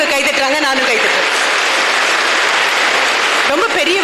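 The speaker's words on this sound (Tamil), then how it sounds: "நான் வரும்போது உங்களுக்காக பெரியவங்க கைதட்டுறாங்க, நானும் கைதட்டுறேன்" Loud, dense applause from an audience at a school orientation programme, a steady roar of clapping with a voice speaking over it at the start and the end.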